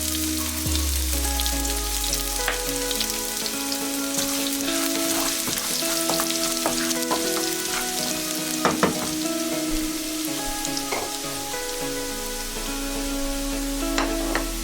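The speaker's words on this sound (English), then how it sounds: "brown the garlic well, then add diced onions, saute well" Chopped garlic fries in a pan for lentil and spinach soup, giving a loud, continuous close sizzle with scattered crackles and pops, no talk.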